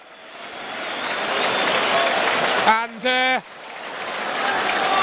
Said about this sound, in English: that's a good round of applause for Dave Besant, who goes off